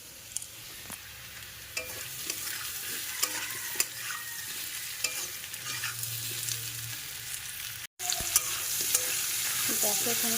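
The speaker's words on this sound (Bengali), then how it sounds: "আজকে একাদশী বললাম, তার জন্য সবজি ভেজে নিচ্ছি।" Vegetables frying in a pan for an Ekadashi meal, a steady sizzle broken by repeated scraping stirs and occasional sharp clinks, with a brief cut to silence near the end before the frying resumes.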